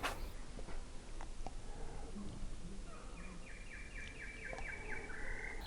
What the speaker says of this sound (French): je tourne aujourd'hui en extérieur avec un temps pas possible et des oiseaux qui n'arrêtent pas de m'emmerder